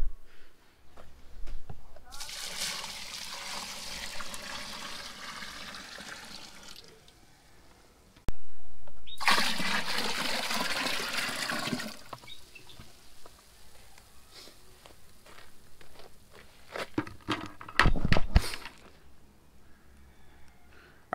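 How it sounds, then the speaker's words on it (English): Water pours in two bursts into a bucket of sugar for bee feed, a rushing splash that stops and starts again, followed by scattered clunks and drips. "we're gonna mix in the same amount of water"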